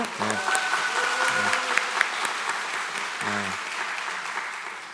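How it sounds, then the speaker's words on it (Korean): A church congregation claps during a festival worship service in Busan, a broad steady patter of applause filling the whole stretch while a voice speaks over it in short phrases. "박수 한번 해주시고"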